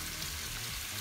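Meat for homemade döner fries in a pan with a steady, soft sizzle that carries on without a break and no voices.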